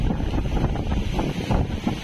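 Strong typhoon wind roars steadily across a coastline at Dinahican, Infanta, Quezon, buffeting the microphone with loud, continuous broadband rumble and gusts throughout, with no voices.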